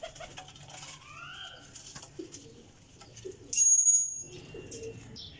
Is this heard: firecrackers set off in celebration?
no